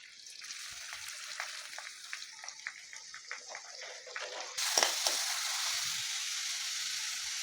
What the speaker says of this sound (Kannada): ಸಣ್ಣ ಕಟ್ ಮಾಡಿರೋ ಈರುಳ್ಳಿ,